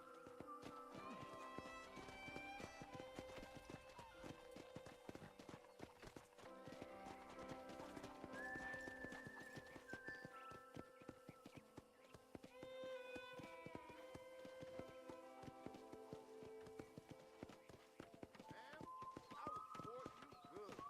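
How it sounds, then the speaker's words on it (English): Rhythmic clip-clop of horse hooves during riding in the video game Red Dead Redemption on Xbox 360, steady and even under background music and talk. "let's see if you can still ride a horse"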